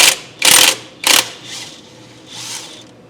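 A ratchet with a silver socket works a bolt off a Pontiac GTO during removal of a Holley Sniper unit, giving two loud, close bursts of clicking followed by softer, fainter ratcheting.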